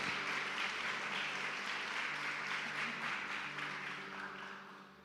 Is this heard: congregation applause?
yes